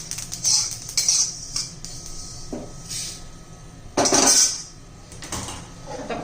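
Roasted sesame seeds are taken out of a pan, with metallic clinks and scrapes of a spoon against the pan. Two louder scraping bursts stand out against a quiet background.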